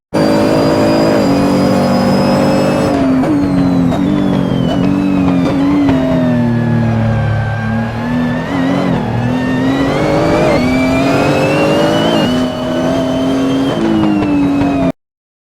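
A rally car engine roars loudly and continuously, pitch dropping as it brakes hard into a hairpin, then climbing again as it revs and accelerates hard out of it.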